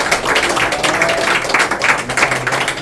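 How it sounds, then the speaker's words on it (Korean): Audience applause in a church lecture hall, a dense continuous patter of many hands clapping at close range, steady and lively for the whole stretch with no speech. "하나님 앞에 영광의 박수 올려드립니다"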